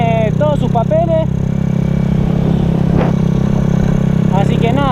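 Steady drone of a 110cc motorcycle engine while riding, loud and close throughout, with someone talking over it in short bursts.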